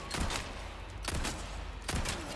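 Pistol shots in the video game Resident Evil 4 Remake: three loud, sharp reports spaced roughly a second apart, each with a short echoing tail, over a low background hum.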